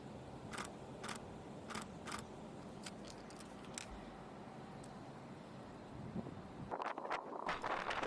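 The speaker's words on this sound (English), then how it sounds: "I'm sure you can hear the wind." Wind blowing outdoors during an engagement photo shoot in Charlotte, North Carolina, a steady low rushing noise with scattered light ticks and a louder gust near the end.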